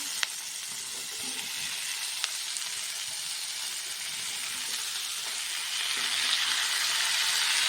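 Vegetables sizzle and crackle as they fry in a pan, a steady close hiss with a few sharp pops and light stirring scrapes, growing slightly louder toward the end.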